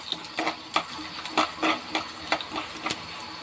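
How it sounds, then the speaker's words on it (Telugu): Tempering spices, urad dal and chana dal hit hot oil for upma and sizzle steadily, with repeated clinks and scrapes of a stirring spoon against the pan close by. "ఆయిల్ బాగా కాగింది. సో ఇప్పుడు పోపు వేసేసుకుంటున్నాను."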